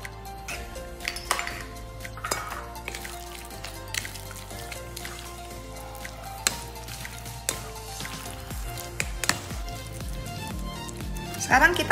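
A siomay mixture with egg white is stirred in a bowl, giving soft wet squelches along with clinks and taps against the bowl in an uneven rhythm, heard under a person's talking.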